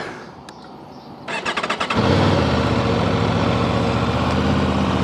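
A quiet hiss, then a starter cranks in quick pulses before a 2026 Aprilia RSV4 Factory sport motorcycle engine with catted exhaust catches and settles into a loud, steady idle.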